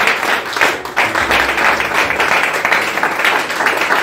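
A church congregation claps loudly and steadily in acclaim of the Lord, a dense, sustained wash of applause from many hands that fills the room throughout, with no voices rising above it.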